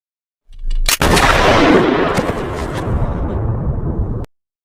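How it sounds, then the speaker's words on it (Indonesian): A sudden loud gunshot in a film scene, a sharp crack followed by a long, heavy, rumbling decay lasting several seconds before cutting off abruptly. "Tanpa keraguan, Arlene langsung menembak pengasuh itu"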